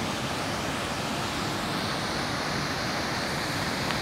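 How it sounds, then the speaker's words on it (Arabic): The Borodan river in Armenia, flowing through a valley near the Devil's Bridge, gives a steady, dense rush of water that holds at an even level throughout, with no voices. "اذا هذا هو نهر بورودان"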